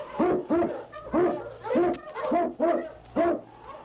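An Eskimo sled dog barking as a radio drama effect: a quick series of about seven sharp, evenly paced barks, close and loud, with no voices over them.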